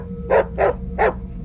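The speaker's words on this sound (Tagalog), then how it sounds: "nagising na lang ako sa ingay ng mga nagtatahulang aso" Three dog barks at night, evenly spaced and fairly close, sounding alone against a quiet low background hum.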